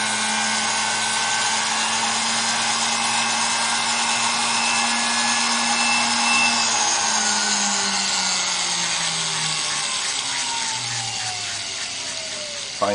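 A power tool fine-sands a small wooden fish pin, giving a steady high whir that runs nearly unbroken for the whole stretch, close and fairly loud, with its pitch drifting slightly.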